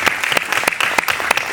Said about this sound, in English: Can we have an applause for that, please?